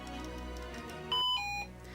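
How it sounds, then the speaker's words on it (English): A lightsaber sound board gives a two-step electronic chime on entering low power mode, a higher steady tone dropping to a lower one, loud and close over faint background hum. "you're going to hear a chime that's going to tell you that it's gone into low power mode"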